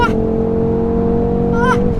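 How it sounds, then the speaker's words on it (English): A 2019 BMW M850i heard from inside the cabin holds a steady, loud engine drone with a firm low rumble, as if pulling hard on a launch. "This car launches so hard"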